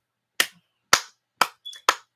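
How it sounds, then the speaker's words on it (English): Five sharp hand claps in an irregular rhythm, close and crisp, with short silent gaps between them and no voices. "Clap it up for him."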